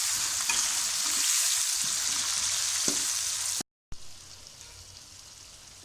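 Chopped tomatoes fry with onions in a pan, a loud continuous hiss of sizzling oil with soft stirring scrapes. It briefly cuts out, then returns quieter and duller.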